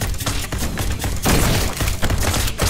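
A sticky grenade detonates in GROSS, a zombie tower-defence first-person shooter, with a loud, heavy boom bursting out midway through a dense, continuous clatter of gunfire and impacts that stays close and loud throughout, with no talking.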